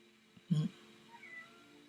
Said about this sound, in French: j'ai le chat qui miaule